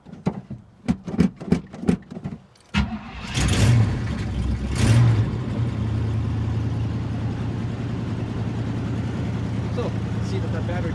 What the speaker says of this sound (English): this battery or this truck should crank over nice and fast. Though I do need to pump the throttle a couple of times.